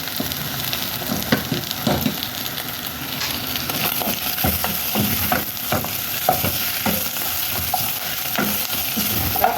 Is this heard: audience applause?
no